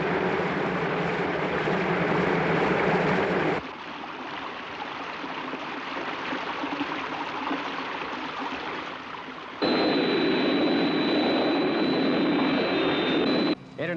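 A steady, loud roar like a jet from the Thunderbirds TV series as Thunderbird 1 flies. It runs for several seconds, changes character twice, and a high tone comes in near the end.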